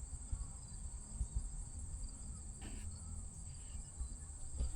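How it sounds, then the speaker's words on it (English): Grasshopper or locust chirping steadily in a Detroit backyard, a continuous high insect buzz that holds through the whole stretch over low rumbling outdoor noise and a few soft knocks. "that's a big locust, grasshopper"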